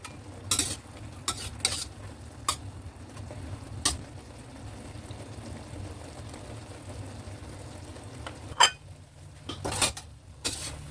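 Eggplant stir-frying in a pan, a low steady sizzle with scattered sharp clinks and scrapes of a utensil against the pan at irregular intervals, no voices.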